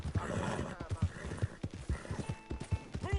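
A horse in the video game Red Dead Redemption 2 clops along in a steady run of hoofbeats on the ground, ending in a short neigh, while someone talks over it.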